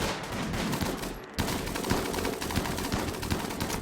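Rapid gunfire from colonists in a colony-building video game, a dense continuous volley of overlapping shots with a brief break near the middle before the firing resumes.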